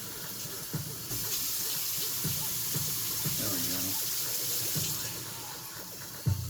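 Hot tap water running from a faucet over an instant noodle sachet of Mi Sedaap Mi Goreng Spicy'licious, a steady close splashing flow with a voice speaking briefly over it.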